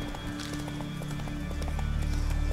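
Horse hooves clip-clop in The Witcher 3 as the horse is confronted by wolves. The hoofbeats are steady and moderately loud over constant game ambience, and no one speaks.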